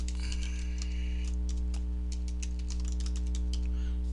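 Quick, light keystrokes on a computer keyboard in bursts of irregular taps, close and fairly quiet over a steady low electrical hum.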